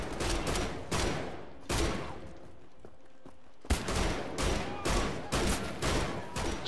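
Shotgun blasts from the video game Wolfenstein: The Old Blood, a rapid series of loud, sharp booms in quick succession, with a short pause midway before firing resumes.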